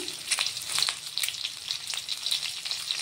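Sliced boiled eggs fry in a pan, a close, crackling sizzle with sharp spitting pops scattered throughout, and no talking.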